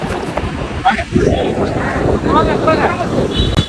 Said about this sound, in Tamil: நல்ல காற்று நீங்க